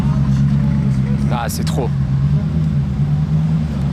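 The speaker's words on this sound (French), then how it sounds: "Et le retour de Nidal avec la Agera couleur cerise." A cherry-coloured Koenigsegg Agera hypercar drives through snow in an Alpine mountain resort, its steady low engine rumble running throughout the clip with a brief spoken exclamation over it.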